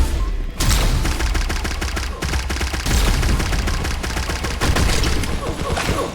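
Rapid gunfire in the shooter game Pixel Gun 3D, a dense, loud barrage of sharp shots fired in quick bursts with brief pauses, continuing throughout with no voices over it.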